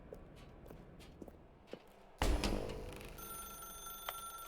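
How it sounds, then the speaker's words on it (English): A telephone rings in The Stanley Parable video game, a sudden loud burst after quieter footsteps, followed by sustained ringing tones that hold steady for a couple of seconds. "Now pick up the phone."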